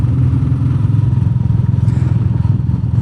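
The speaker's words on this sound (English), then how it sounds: "this ticking noise of the valves is definitely better" A Royal Enfield Meteor 350 motorcycle engine idles close by with a fast, even valve ticking running through its low rumble.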